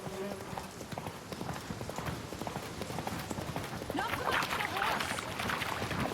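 Hooves of a horse galloping in The Witcher 3 video game beat in a rapid, steady clip-clop rhythm, close and continuous, under game ambience with faint voices.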